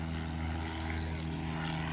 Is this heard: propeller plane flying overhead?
yes